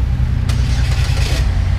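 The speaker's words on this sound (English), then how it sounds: "It's got remote engine start. You just lock it, push this button," A 2014 GMC Terrain SLT SUV engine turns over via remote start and catches, a loud low rumble close by with a brief rise in revs.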